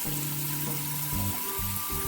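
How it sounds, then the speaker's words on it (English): Collard greens rinsed under a running tap in a sink, with a steady close rush of water and sloshing splashes as the leaves are moved, with no talk. "I'm going to just go ahead and rinse them one last time"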